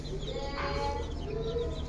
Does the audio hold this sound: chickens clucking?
yes